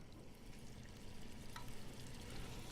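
Pepperoni-wrapped scallops searing hard in hot oil in a pan, a faint continuous sizzle with soft crackling and no talk.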